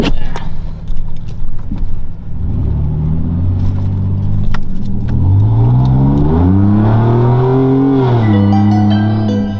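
International Harvester (IHC) truck fitted with a drop kit and new control arms, its engine revving up and down in close, loud swells with rising and falling pitch after some clunks at the start.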